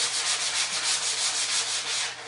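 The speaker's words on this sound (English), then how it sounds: "So you want to sand it down just a little bit," Light hand sanding of freshly painted wood to knock down raised grain, a steady loud scratchy rubbing with rhythmic back-and-forth strokes, close and continuous with no talk.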